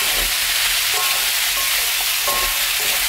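Food stir-fried in a pan over medium heat for a Korean side dish, a steady close sizzle with soft scraping stirs and occasional brief clinks of a utensil against the pan.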